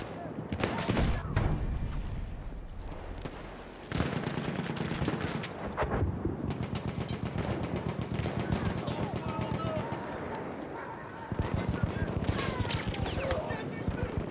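Enemy machine gun fire in a video game battle for the Sinai, loud rapid bursts that carry on almost continuously, with short breaks, under a voice calling out in the game.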